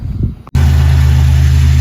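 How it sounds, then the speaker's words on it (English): A Buick Grand National engine catches after a brief rustle and settles into a steady, even idle around 1050 rpm following a throttle position sensor adjustment. The idle is close and loud, with a smooth low hum and no talking. "we got first startup after we adjusted the throttle position sensor. We're idling right around 1050"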